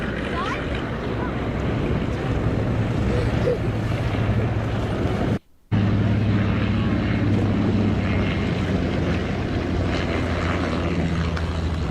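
A Mark 18 warbird aircraft comes in to land, a steady loud propeller drone with wind rush running throughout, broken by a brief dropout midway before the engine noise resumes.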